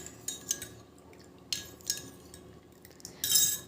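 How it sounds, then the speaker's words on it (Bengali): A spoon clinks against a bowl while mixing a coffee hair remedy, with faint scraping between sharp clicks and a louder clatter near the end. "কফিটা দিয়ে ভালো করে মিশিয়ে নিচ্ছি"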